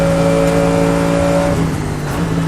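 A Mercedes-AMG GT3 race car at full power on the Portimão circuit, its engine a loud, close, steady high-revving drone that shifts pitch partway through as the gears change, with no voices over it.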